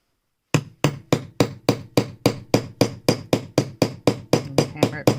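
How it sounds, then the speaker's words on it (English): Hand hammer striking a metal eyelet setter to fix a grommet into a paper gift tag: about fifteen sharp, evenly spaced taps at a steady rhythm, close and clear with no talking. "Now we need a hammer. And hammer it"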